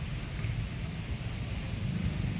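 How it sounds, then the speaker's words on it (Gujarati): Steady, dense rain pours down continuously with a deep low rumble beneath it, heavy and unbroken throughout. "વરસાદ આવી ગયો છે, હજી ચાલુ જ છે."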